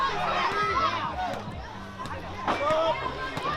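Spectators at a WFC wrestling show at Safari Joe's H2O Water Park cheer and shout in support of a wrestler, a lively crowd roar rising and falling under a commentator's steady voice.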